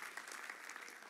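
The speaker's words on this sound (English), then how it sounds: "give him a clap" Applause from a live audience at a talk, greeting a presenter's tiny 18-day-old son; steady, fairly faint clapping runs through the whole brief moment with no voices over it.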